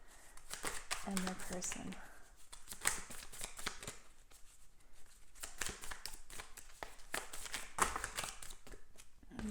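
A deck of tarot cards is shuffled up close in repeated riffling bursts, with a few quiet spoken words partway through.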